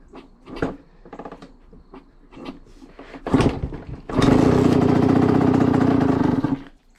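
A Honda CR85 dirt bike with a freshly rebuilt top end is kicked over a few times with sharp clunks, then the two-stroke engine fires and runs loud and steady for about three seconds before cutting off.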